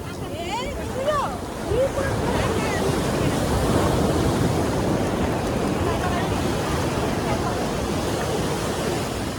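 Sea waves break at Puri beach in a continuous broad roar of surf with wind buffeting the microphone, while distant voices are briefly heard early on.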